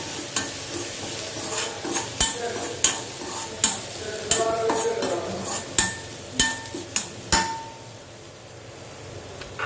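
Bottle gourd sautéed in a hot dry pan with no oil, close and loud with repeated sharp clanks of a spatula against the pan over a soft sizzle.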